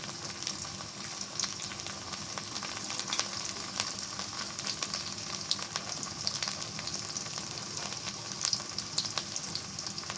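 Ginger, cumin and spice pastes frying in a pan for a dish of Malabar spinach and beef tripe, a constant close sizzling hiss with a few faint stirs and no voices.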